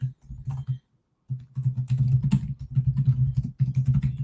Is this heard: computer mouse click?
yes